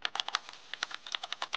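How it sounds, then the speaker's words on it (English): Rapid, light keystrokes on a computer keyboard as a prompt is entered, a brisk, close run of crisp clicks with a brief pause midway. "First, go to ChatGPT and start typing a prompt."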